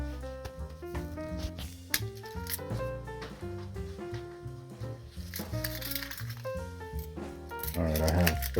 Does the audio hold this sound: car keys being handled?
yes